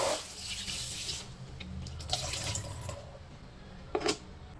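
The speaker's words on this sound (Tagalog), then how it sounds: "Ito po ang ating hugasan natin sa tubig guys." Fish is rinsed under a running kitchen tap, a close steady water flow with splashes and brief louder gushes as the fish is handled.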